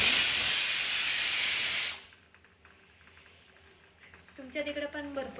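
A pressure cooker lets off a loud, steady hiss of steam for about two seconds before it cuts off, followed by quiet room sound and a voice speaking near the end.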